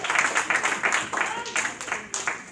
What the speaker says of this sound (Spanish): ¿Cuánto dan ese aplauso a la gloria de Dios?